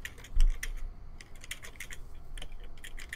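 Rapid computer keyboard typing and clicking during an online tabletop role-playing game session, a steady run of light, close keystrokes with a slightly heavier thump near the start, no voices.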